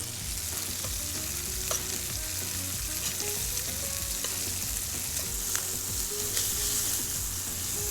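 Key West pink shrimp fry in butter with red pepper flakes, giving a dense, continuous sizzle close up and a faint low hum beneath, with an occasional sharp pop or tick.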